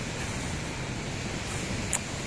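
Steady broadband surf of ocean waves on a seaside shore in the early morning, a continuous wash with a faint brief splash near the end, no voices.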